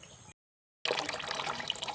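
Water runs from a government village tap in Chhattisgarh and trickles and splashes steadily at close range. The flow stops for about half a second, then resumes, and no one speaks.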